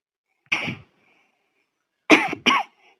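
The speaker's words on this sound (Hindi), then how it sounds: "आज बड़ी खांसी आवती है" A single sharp cough, a pause, then two quick coughs in succession, close and loud in an otherwise quiet room.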